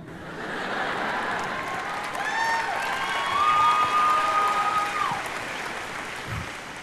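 A student audience at a youth motivational talk breaks into clapping, a broad, steady wash of applause that swells slightly in the middle and carries on for about seven seconds, with a few faint voices mixed in.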